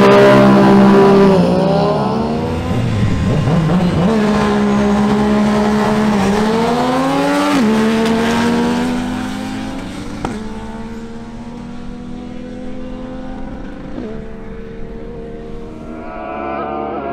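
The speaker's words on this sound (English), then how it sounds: "let's witness a duel between Ruben Torres on his Ducati Panigale and Brian Jamies on his Yamaha MT-09." A Ducati Panigale and a Yamaha MT-09 launch in a drag race, loud engines screaming up through the revs with sharp pitch drops at each gear change, fading slightly as the bikes pull away.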